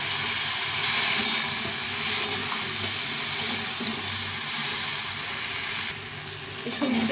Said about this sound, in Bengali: এই সবজিটা ভাজা ভাজা হয়ে গেছে